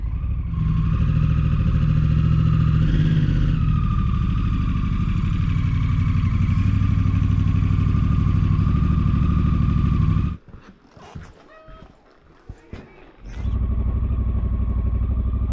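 Motorcycle engine running steadily and loud up close in the Argentine Andes, a continuous rumble that cuts out abruptly into near silence for about three seconds before resuming.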